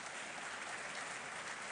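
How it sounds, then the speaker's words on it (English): An audience claps steadily at a university professorial inaugural lecture at KNUST, a dense, even wash of many hands that holds at a constant, fairly soft level throughout. "Clap for the university."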